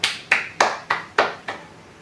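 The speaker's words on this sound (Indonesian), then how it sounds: "beri tepuk tangan untuk kalian semua" Schoolchildren in a classroom clap their hands together in six sharp, evenly spaced claps. The claps are crisp and close, with quiet gaps between them and no talking.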